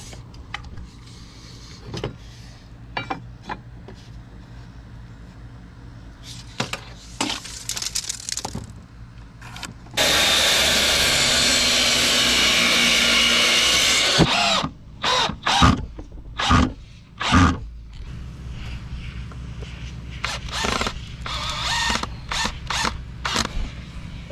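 A power drill drives screws into wood while building a cold frame planter, with one sustained loud whir of about four seconds amid short bursts and clattering handling noises.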